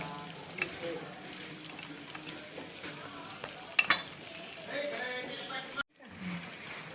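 Mutton masala with a little hot water simmers on a low gas flame, giving a soft, steady bubbling sizzle with a couple of light clinks and a brief cutoff near the end.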